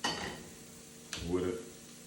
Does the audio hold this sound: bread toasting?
yes